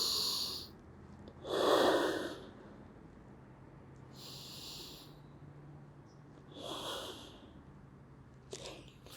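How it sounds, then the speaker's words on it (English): Slow, deep nasal breaths into the belly, several long airy inhales and exhales spaced a couple of seconds apart, close and quiet with no talking. "we simply breathe into our belly, trying to expand our belly as big as we can throughout deep nasal breaths"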